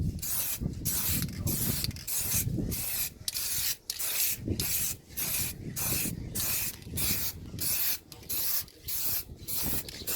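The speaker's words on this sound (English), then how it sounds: "here we are, round 2 of spraying" Spray paint hissing onto a Toyota Yaris Mk1 car part in short, even bursts, about a dozen quick sprays with brief pauses between them, close and fairly quiet, with no talk.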